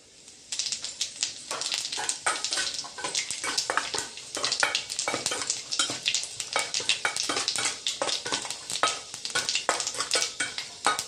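Panch phoron five-spice seeds sizzling and crackling loudly in hot oil in a home kitchen pan, a steady dense frying hiss with rapid popping spits throughout, close up and with no talk.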